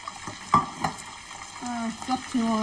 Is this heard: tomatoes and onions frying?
yes